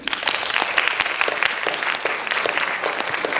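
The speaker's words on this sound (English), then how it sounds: "a huge round of applause for your mentors" Audience applause for mentors at a design hackathon opening ceremony, with brisk, uneven clapping and sharp individual claps standing out close by over the crowd's steady patter.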